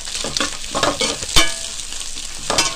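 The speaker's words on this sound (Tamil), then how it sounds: "ஆட் பண்ணிவிட்டு நல்லா வணக்கி விட்டுக்குங்க." Vegetables and egg noodles being stir-fried in a hot pan, with sizzling oil under repeated scraping and tossing strokes from a spatula, close and fairly loud, no voices.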